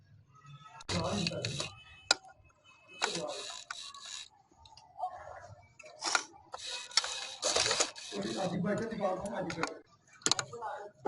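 A sewing machine stitches a thin fabric cord in short bursts of rapid mechanical whirring, stopping and restarting several times, close and clear, alternating with someone talking between runs.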